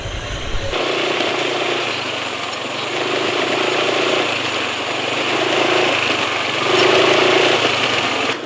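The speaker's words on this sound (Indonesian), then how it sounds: "suara mesinnya ya masih termasuk halus," Motorcycle engine idling smoothly after an oil change to Federal Mobil Deltron HDEO, a steady close hum with faint mechanical ticking and slight surges in level, preceded by a brief thump.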